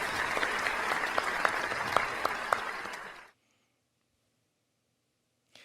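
Warm applause from a church children's worship service welcoming the teachers, dense clapping with a few sharp individual claps for about three seconds before it stops abruptly into silence.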